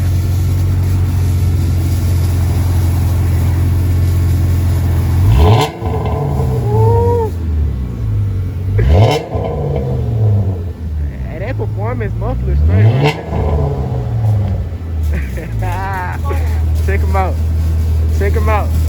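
A 2018 Dodge Charger with straight pipe exhaust idles with a deep rumble, then several sharp revs rise and fall one after another, loud and close, with people talking over it.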